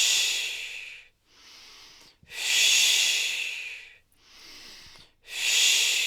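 Deep, slow breathing during a seated shoulder rotation exercise, three long loud airy inhalations alternating with two softer exhalations in an even rhythm, close to the microphone, with no talking.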